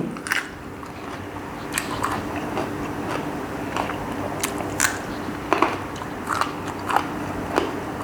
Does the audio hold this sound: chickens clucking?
no